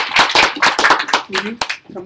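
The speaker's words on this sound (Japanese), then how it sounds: "じゃあ、拍手お願いします。" An audience at a talk-show style school gathering claps in a dense burst that thins out after about a second, giving way to close murmured voices.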